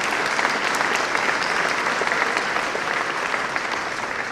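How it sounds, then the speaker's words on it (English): Steady, dense clapping from a crowded audience at a July 4th speech event, loud and unbroken throughout, with no speech over it. "Are you all clapping because now I'll leave?"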